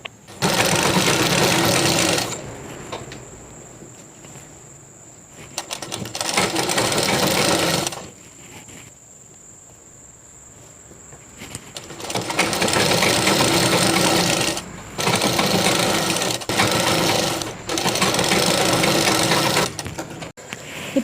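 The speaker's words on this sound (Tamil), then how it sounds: "இப்போ நான் உங்களுக்கு தைச்சு காட்டுறேன் ஒரு சைடு." A domestic sewing machine stitches the side seam of a nightie in four loud, steady whirring bursts of a few seconds each, separated by quiet pauses while the fabric is repositioned.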